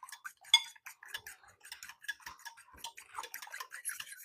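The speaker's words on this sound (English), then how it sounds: "And then we're going to whip this up until all of it is like mixed together." Eggs being whisked into an egg wash for homemade chicken tenders, a fork or whisk clicking quickly and steadily against the bowl for several seconds, close and fairly quiet, with no talking.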